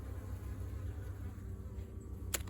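Honey bees hum steadily and softly around an open horizontal jumbo Langstroth hive during an inspection, a continuous close buzz with a brief sharp tick near the end.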